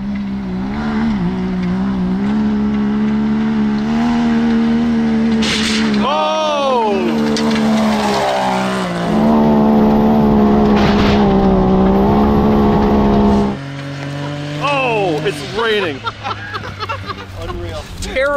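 A 400-horsepower Can-Am X3 side-by-side riding on saw blade wheels, its engine revving hard and loud with rising and falling pitch as it accelerates and shifts, a harsh whine throughout, with people talking excitedly over it.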